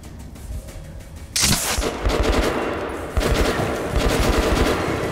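Rapid automatic gunfire from a weapon in Metro Last Light Redux, loud bursts of closely spaced shots that kick in after a quiet opening and continue in sustained streams with a short break near three seconds.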